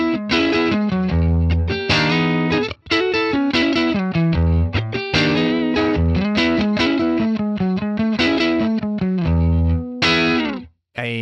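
Electric guitar through an Axe Fx III Brownface amp model paired with a 10-inch Princeton cabinet impulse, loud crunchy chords and riffs with a touch of chorus, played continuously with short pauses.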